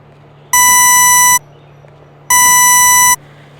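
A Spot On GPS dog collar plays its locating tone: two loud electronic buzzy beeps, each close to a second long, separated by a short pause over a low background hum.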